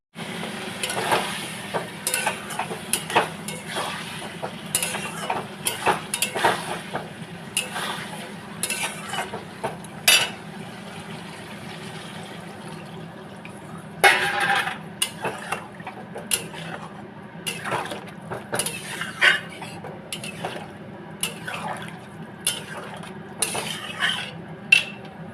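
A spatula stirs radish greens frying with poppy seeds and lentil dumplings in a pan, giving repeated sharp scrapes and clinks over a soft, steady sizzle.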